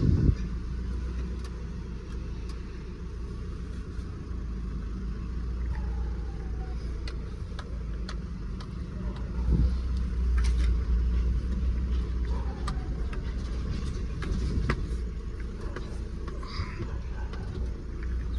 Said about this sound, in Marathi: सो बघा धक्का देऊन गाडी केली स्टार्ट